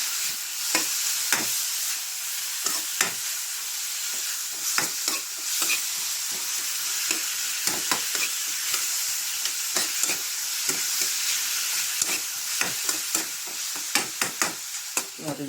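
Tomato, garlic and onion sauté in a pan, a steady close sizzle broken by frequent scraping and clacking strokes of a spatula, with no talking.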